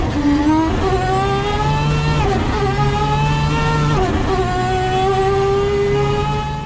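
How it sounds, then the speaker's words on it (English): Mazda 787B race car at Le Mans in 1991, its rotary engine howling loud and steady through gear changes as it screams past, with no voices. "combined with efficiency of the 787B, it also had a wonderful sound when it flew by"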